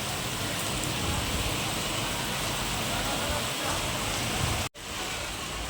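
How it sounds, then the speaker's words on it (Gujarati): Steady, dense hiss of heavy rainfall in Junagadh continues throughout, broken by a brief sudden gap near the end. "અમારા જુનાગઢમાં અતિ વરસાદ પડી રહ્યો છે"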